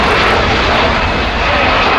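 An airliner takes off at Manchester Airport, its engines a loud, continuous, broadband roar that holds steady throughout, heard from nearby with no other sounds.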